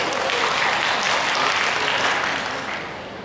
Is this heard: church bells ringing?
no